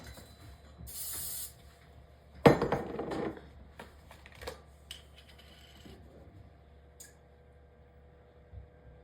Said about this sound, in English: I'm going to spray this before I put the molasses in so it's easier to come out.